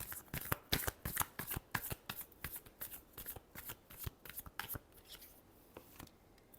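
Tarot cards are shuffled by hand up close, a quick series of crisp riffling slaps and flicks in an uneven rhythm, with no voices.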